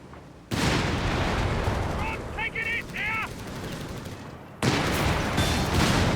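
Artillery fire and gunshots rumble loudly through a Company of Heroes 3 match, dense and continuous, dipping briefly before a sudden loud burst returns near the end; a few short high chirps cut through the middle.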